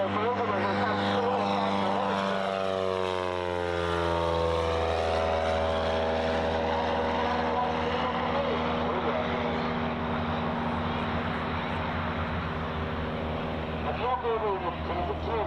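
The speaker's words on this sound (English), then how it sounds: "listening to this engine as it comes through" A propeller plane engine drones loudly as it passes close by at an air show, its pitch sliding downward and then holding steady as it moves away.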